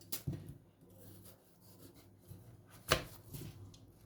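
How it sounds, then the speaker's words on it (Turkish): Potatoes cut into large chunks on a board as a side for oven-baked bonito, with a few sparse, quiet knife knocks spread across a hushed kitchen. "Böyle patateslerimi iri iri e, doğruyorum yanında."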